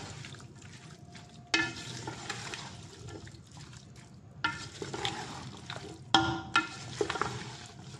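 A spoon stirs spices through beef curry in a pot, producing wet, sloshing scrapes in several bursts over a low sizzle, near and moderately loud, with no talk.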